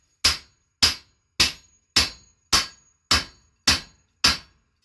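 Eight sharp, evenly spaced metal hammer blows ring out loud and close, each knocking at cut pieces of a welded wheel rim, with brief decaying clang after every strike and silence between.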